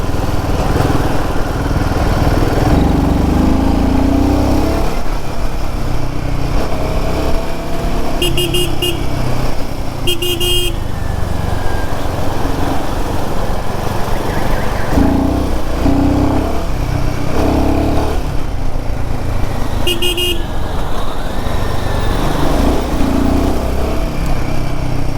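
A Royal Enfield Himalayan 450 motorcycle rides through city traffic, its engine droning steadily and loudly throughout, with surrounding traffic noise and brief horn toots breaking in several times.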